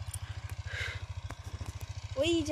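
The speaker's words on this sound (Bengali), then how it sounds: "আবার চাষ হচ্ছে, পাওয়ার টিলার দিয়ে চাষ করছে" A power tiller engine chugs steadily while plowing a field, with a rapid, even low thump throughout, while a voice speaks briefly over it near the end.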